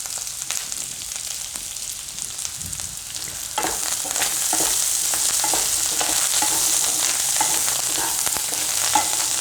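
Shingoda (water chestnut) fasting snack with turmeric and fresh green coriander cooking in a pan on a gas stove, giving a steady close sizzle that grows fuller partway through, with occasional stirring scrapes and no talk.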